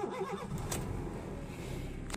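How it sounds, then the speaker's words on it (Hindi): A car engine cranks and catches, then settles into a low, steady idle close by, with no talk over it. "तो आप गाड़ी को करते हैं स्टार्ट और फिर देखते हैं।"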